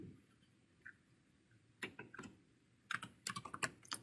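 Soft clicks of typing on a computer keyboard, a few scattered taps followed by a quick burst of keystrokes, close and quiet.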